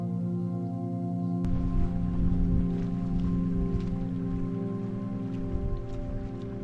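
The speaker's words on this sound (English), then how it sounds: "The rain's really moved in." Steady rain patters down beside a mountain lake on a Colorado hike, a soft continuous hiss of drops on surfaces and leaves with a low background hum.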